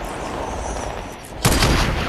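A sniper rifle shot in Fortnite bursts out sharply near the end, loud and close, over a steady busy game background.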